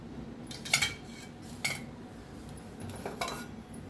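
Roasted seeds tipped from a pan onto a plate with a spoon, giving a few soft, close metallic scrapes and clinks over a faint background hum.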